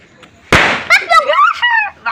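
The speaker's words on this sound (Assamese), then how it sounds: "ইহঁতৰ লগত প্ৰথমতে ফটকা মাৰো" A firecracker goes off with one sharp, loud bang and a brief crackling tail, followed by excited voices shouting nearby.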